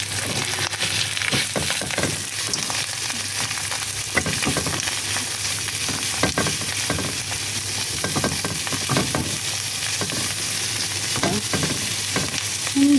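Carrots fry in a hot pan with a dense, continuous sizzle and crackle, broken by frequent scraping stirs from a utensil, close and fairly loud throughout, with no talking.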